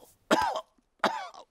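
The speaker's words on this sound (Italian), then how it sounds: "il dottor Orso Bruno ha preso la tosse da Pedro" A voice actor playing a cartoon bear doctor in an Italian-dubbed Peppa Pig episode gives two short, close coughs, a brief pause between them and silence around them.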